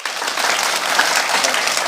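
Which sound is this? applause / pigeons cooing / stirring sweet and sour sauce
applause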